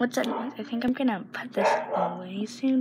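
A pet dog barks and yips repeatedly at close range indoors, sharp barks interleaved with a person talking nearby.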